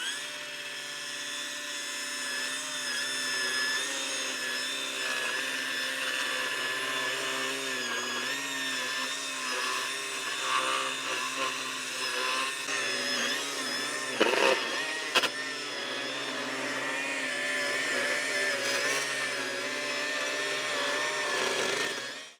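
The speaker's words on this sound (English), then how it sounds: "so we're going to get the edger out." A loud, steady motorized whine of a Milwaukee powered lawn edger runs throughout, with brief rougher bursts partway through as it bites into turf.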